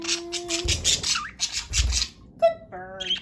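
A budgie squawks in several sharp, harsh bursts close by, with a few higher chirps near the end, while a person talks softly.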